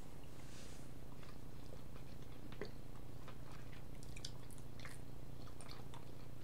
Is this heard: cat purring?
yes